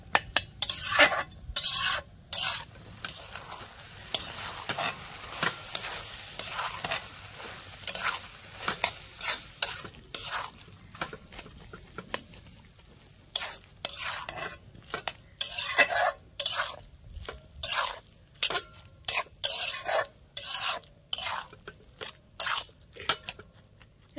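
Malabar spinach fruit curry is stirred in a pan over a soft sizzle of frying, with repeated scraping strokes and clinks from the utensil coming in irregular bursts, close and fairly quiet.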